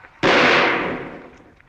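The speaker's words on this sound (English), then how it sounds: "Wait, I'll fire a shot." A single sharp gunshot fired as a signal cracks out loud and close, then its echo rings and fades slowly for over a second, with no voices over it.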